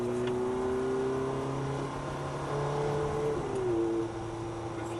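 A Ferrari F430 engine hums with a steady tonal drone inside the car, its pitch shifting slightly as it eases on light throttle, fairly loud and continuous.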